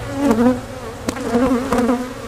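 Honey bees buzz at an open hive during a split, a dense steady drone with individual bees whining past close by.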